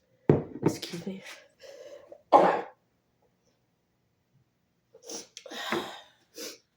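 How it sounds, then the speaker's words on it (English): A person sneezes forcefully once near the start, followed by a few short throat-clearing bursts and a sharp exhale, then quiet before speech resumes close to the microphone. "Sorry. Had to sneeze."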